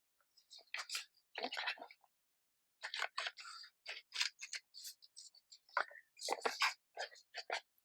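Scissors snipping through a paper envelope for a junk journal craft, close and crisp, in quick bursts of short cuts with brief pauses between them, with soft whispery speech faintly mixed in.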